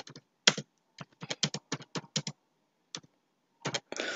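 Quick bursts of keystrokes on a computer keyboard as exam marks are typed into an MS Word table, crisp close clicks in short irregular clusters separated by pauses, ending with a rapid flurry.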